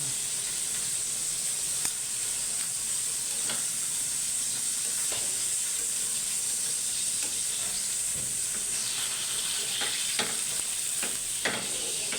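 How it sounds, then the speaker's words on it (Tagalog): Steady, loud sizzling of food frying in hot cooking oil over a lowered flame, a constant crackling hiss with occasional pops and scraping sounds. "prito natin, lagyan natin ng cooking oil"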